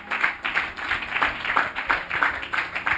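A church congregation claps along in a steady rhythm during a Bible teaching service, the beats fairly close and even, rising and falling in loose waves for the whole stretch.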